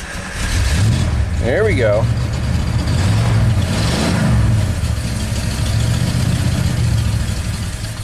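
A rebuilt Ford big block V8 catches and runs rough at close range after hard starting, its uneven idle surging under a brief spoken remark.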